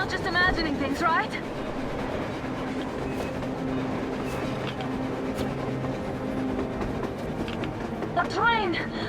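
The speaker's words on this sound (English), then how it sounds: "A train! A damn train on the surface!" A train rolls across the snowy surface in the Metro Exodus video game during a blizzard, a low steady rumble with faint clacking under wind, while people talk over it.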